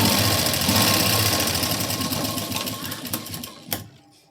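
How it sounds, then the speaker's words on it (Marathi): A sewing machine stitches a strip of fabric piping, a fast close rattling run that slows and stops with a final clunk near the end. "इथे मी शिलाई देऊन घेणार आहे"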